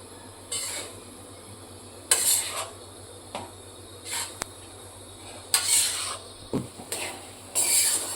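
Flour and ghee stirred together in a pan, intermittent bursts of scraping and rubbing against the metal with a light sizzle between strokes, close and unaccompanied by talk.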